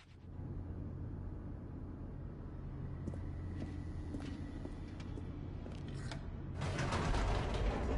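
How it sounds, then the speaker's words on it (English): An elevator descends in The Stanley Parable with a steady low mechanical rumble and faint creaks, then grows louder with a rattling, clattering burst near the end. "The elevator raced downward, plummeting towards an unknown fate."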